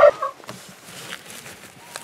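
Backyard chickens give a loud cluck up close at the start, followed by softer clucks and rustling that fade into a quiet garden background.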